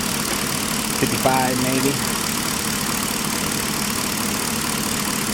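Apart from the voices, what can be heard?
Chevy Caprice engine idling with AC compressor running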